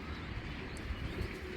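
Racer pigeon cooing softly amid a steady, noisy background, low murmuring coos running throughout without clear breaks.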